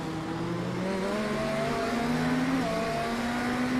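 Race cars lap the Sebring circuit in an IMSA sim racing esports event, with GTP prototypes passing GTD cars; a steady engine drone with rising and falling pitch as cars rev and pass, continuous and moderately loud, no talking.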